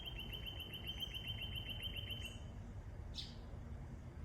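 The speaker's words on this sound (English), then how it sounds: "Birds chittering in the trees" Small birds chitter in garden trees on a quiet evening, a rapid run of faint, high tweets followed by a brief louder chirp, distant and soft over low background hum.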